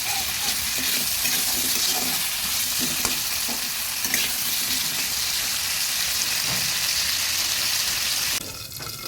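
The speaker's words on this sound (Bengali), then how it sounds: "এবার ঢাকা দিয়ে আলুগুলো ভেজে দিচ্ছি" Potatoes fry in oil in a covered pan with salt and turmeric, giving a steady, loud, dense sizzle that runs unbroken and drops slightly near the end.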